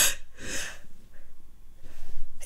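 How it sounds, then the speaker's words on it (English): A person sneezes, with two sharp breathy bursts close together, then a quieter pause and another burst at the end, close and fairly soft. "Oh, I have to sneeze."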